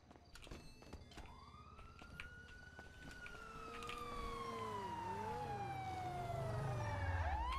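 A police siren in a video game wails and sweeps up and down in pitch, growing louder as it approaches, with scattered clatter and engine noise underneath.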